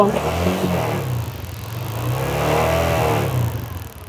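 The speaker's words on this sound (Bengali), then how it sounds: "আমরা বাইকের সাউন্ড কন্ডিশনটা শোনানোর চেষ্টা করতেছি" A second-hand motorcycle engine revving at a showroom, its steady close drone climbing and falling in pitch as the throttle opens and eases off, smooth and continuous without any voices.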